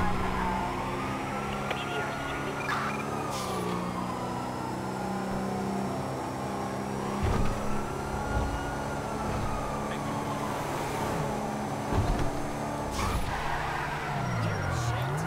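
In GTA 5, a car speeds through a chase: the engine rises and falls in repeated revving sweeps, with brief thumps and screeches scattered through a busy, fairly quiet mix.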